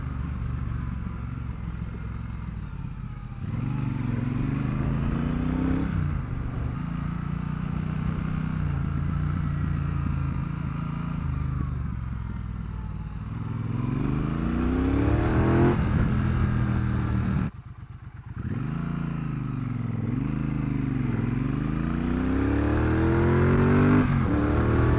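Triumph Bonneville Bobber 1200 motorcycle climbing a hill at about 60 mph: a close, continuous engine drone with rising and falling revs through gear changes, mixed with wind rush, and a brief dip in sound partway through.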